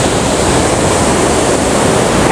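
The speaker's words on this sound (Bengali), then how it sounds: "এত জোরে জলটা পড়ছে, কথাই শোনা যাচ্ছে না। এই হচ্ছে লোধ ফলস।" Lodh Falls roaring nearby, a loud, steady wall of crashing water that fills everything with dense, unbroken hiss and rumble and no other sounds.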